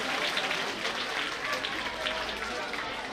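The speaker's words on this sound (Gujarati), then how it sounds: "હવે તાળીઓથી વધાવતા રહીએ." An audience applauds at an honouring ceremony as a guest is draped with a shawl, a dense, steady clatter of many hands clapping throughout at a moderate distance.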